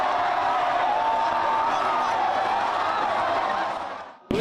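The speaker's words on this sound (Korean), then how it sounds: "이강인이 페널티킥으로 우크라이나의 골문을 열자 광장이 떠나갈 듯한 환호성이 터져나옵니다" A crowd of citizens gathered in a public square roars in celebration after Lee Kang-in's penalty goal against Ukraine, a loud sustained wash of cheering and shouting that fades abruptly near the end.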